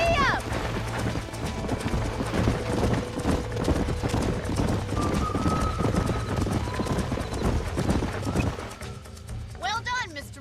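A horse gallops in the Red Dead Redemption video game, its quick clip-clop hoofbeats running steadily throughout, with a brief whinny near the end and voices speaking over the ride.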